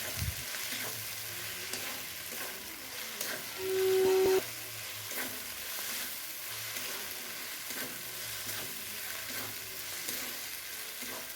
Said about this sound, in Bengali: তো রসুন বাটাটাকেও ভালো করে পেঁয়াজের সঙ্গে ভাজা ভাজা করে নিয়ে